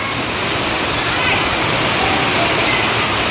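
A downpour hammers down during a windstorm in a village, with water streaming off a roof; the rush is loud, close and unbroken throughout.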